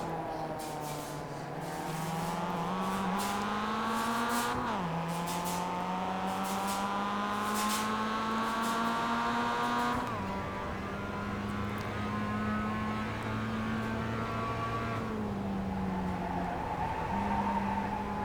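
Race cars lapping the Tsukuba circuit in the iRacing sim, a single engine's whine climbing steadily through gears with sharp drops at each shift, repeating in long pulls, loud and close with no talk.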